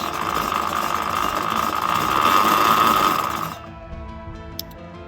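A 36V Atco cylinder mower converted to run on Ozito PXC batteries spins its blades backwards for backlapping, a steady close whirring whine that cuts off abruptly, leaving a faint hum and a small click.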